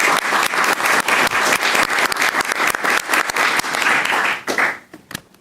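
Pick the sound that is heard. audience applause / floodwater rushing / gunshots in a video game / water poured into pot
audience applause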